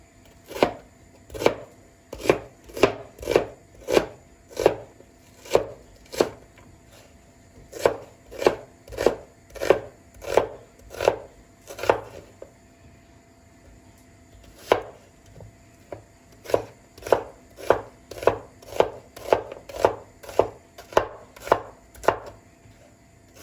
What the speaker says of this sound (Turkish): sebzelerimi doğradım